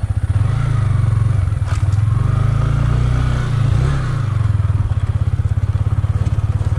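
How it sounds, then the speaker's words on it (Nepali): Motorcycles arriving on a rough stony road, a loud close engine thrumming steadily with a pulsing idle and slight revving, plus a few scrapes and clatters. "बाइक सब आइयो"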